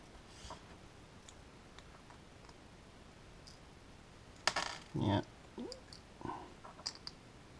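Metal washers handled while fitting screws on a magnetic propeller balancer: scattered light clicks and sharp clinks, quiet at first, then a cluster of brighter metallic jingles near the middle.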